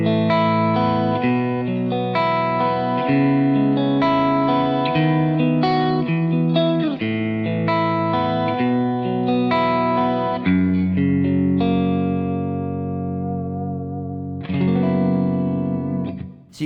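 Electric guitar played clean through a Mezzabarba Skill 30 valve amp, ringing chords and arpeggiated notes with a shimmering effects wash and reverb, sustained loudly and alone, fading at the end.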